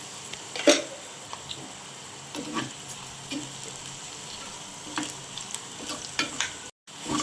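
Fennel seeds frying and being stirred in a clay pot with chilli and curry leaves for a Jaffna-style squid dish, giving a soft steady sizzle with light scraping stirs and one brief louder clatter, close and alone.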